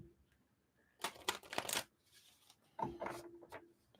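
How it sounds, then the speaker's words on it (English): A couple of short bursts of tarot cards being shuffled close by, a papery riffle and flutter separated by a moment of near quiet. "These cards are kind of tricky to shuffle."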